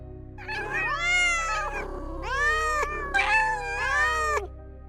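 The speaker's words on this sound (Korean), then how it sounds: "고양이들은 야옹야옹하고 울면서 제각기 움직이고 있었고" Several cats meow in long, wavering cries, three drawn-out calls overlapping, close and fairly loud, with no talking.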